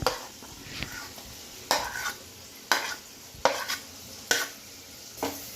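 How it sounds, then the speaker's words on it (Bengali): Cumin paste goes into potatoes frying in a pan for a Bengali fig curry, with a faint sizzle under five or six distinct scraping strokes of a spatula against the pan, close and unaccompanied by talk. "প্রথমে জিরে বাটাটা দিয়ে দিচ্ছি"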